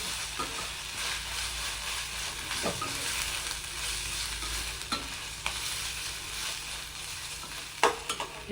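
Ginger garlic paste cooking on a low flame in a pan for a vegetable salna makes a continuous soft hissing sizzle, with a few light scraping stirs spaced through it, close and alone.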